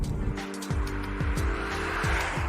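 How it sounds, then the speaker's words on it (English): Steady engine drone heard from inside a car, rising and falling as gears change, fairly loud and continuous with no talking. "you know it's the engine because the rest of the car is quieter than the MG"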